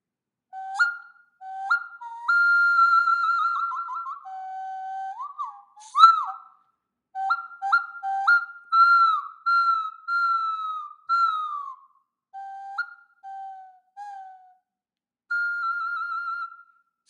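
A single-hole whistle sounds alone in a series of clear tones, some held and some short, sliding from high pitch down to low with brief pauses between phrases.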